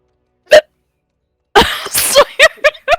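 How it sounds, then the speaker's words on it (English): A single sharp hiccup sounds alone near the start, then after a pause several more quick hiccups come in an uneven run, close and clear, during an online tabletop role-playing session. "Who's got the hiccups?"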